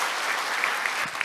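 A forum audience gives the session speakers a short burst of applause, an even clatter of many hands with a few sharper claps standing out near the end.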